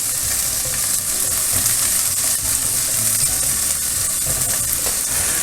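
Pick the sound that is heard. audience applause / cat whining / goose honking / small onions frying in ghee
small onions frying in ghee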